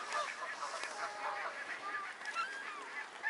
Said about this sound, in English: And get attacked by swans.